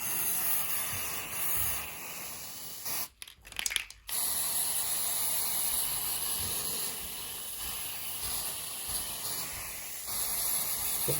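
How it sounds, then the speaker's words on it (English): Carpet adhesive sprays onto a burnt carpet in a long, continuous close hiss that breaks off sharply for about a second before carrying on at a steady level. "So now we just basically have to put the glue in, put carpet adhesive in all down,"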